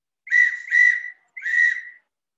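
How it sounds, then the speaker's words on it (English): Three clear, breathy hoots from a traditional owl-shaped whistle, two close together then a brief pause before the third, bright and hollow with nothing else around them. "It's a whistle owl."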